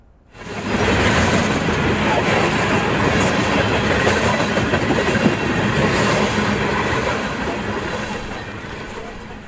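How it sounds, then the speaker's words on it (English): A train rumbles past close by, a loud continuous roar of wheels and rail noise that swells quickly and holds steady throughout. "every train I saw got faster and faster"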